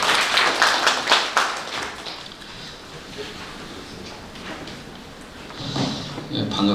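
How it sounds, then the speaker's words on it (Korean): A seminar audience claps to welcome a company CEO presenter, a brief burst of applause at the start that fades into room quiet, then another short patter of claps near the end. "큰 박수 부탁드리겠습니다."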